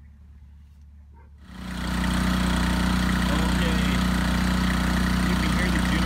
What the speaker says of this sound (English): You can hear the generator purring right now.